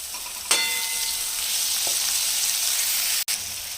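Chopped tomatoes with salt roast in oil in a pan for paneer bhurji, sizzling steadily and close up, with a sharp metallic clink of a spoon and a brief stir partway through.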